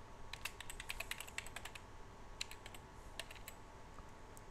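Computer keyboard keys are tapped in short, quick bursts of light clicks, close and quiet, with brief pauses between groups and no talking.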